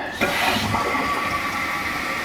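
Water rushing into a toilet tank during a bathroom remodel, a steady hissing fill that starts abruptly and runs on loudly and evenly, close by, with no talking.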